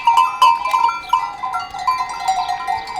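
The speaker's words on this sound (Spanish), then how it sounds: "de estas cabras conocidas como cabras de la son" Goats, some of them crossbreeds, bleating on a farm among other livestock: several overlapping nasal calls, loud and close, repeating one after another with no pause over a steady outdoor background.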